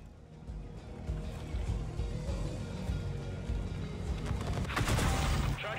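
Tank taking gunfire in the World of Tanks video game, with a dense, continuous rumble of impacts and engine noise that swells toward the end into a brighter crackling burst.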